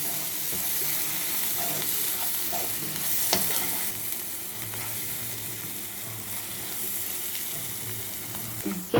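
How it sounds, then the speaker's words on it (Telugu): Chili powder and coriander powder, two tablespoons each, fry in a pan for a dhaba-style gravy under a steady, continuous sizzle, with soft scraping as the spice mix is stirred throughout. "ఇప్పుడు బాగా మిక్స్ చేసుకుందామండి అంతా."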